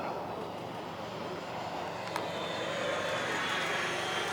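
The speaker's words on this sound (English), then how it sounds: "And that one's a turbine-powered jet." A turbine-powered model jet flies overhead with a continuous broad whooshing roar, fairly distant and steady, swelling slightly as it passes.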